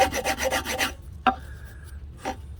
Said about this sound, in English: So you don't have to spend a lot of time with your sandpaper doing that.